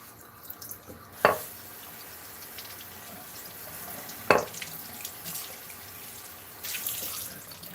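A 1996 Kellogg's bowl is rinsed under a running kitchen tap, giving a steady close wash of water with two sharp clinks against the sink and a rising splash near the end.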